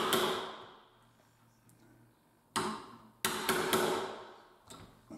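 A chisel strikes and pares into wood while a mortice is cut for a tubular latch, giving several sharp, loud close knocks with short scraping tails separated by quiet gaps.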